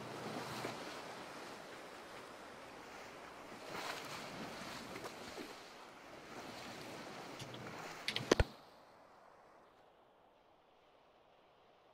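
Steady wind and wave wash surround a sailing boat in the video game Sailwind, a broad constant rush lasting about eight seconds before a brief knock and a sudden drop to a faint hiss.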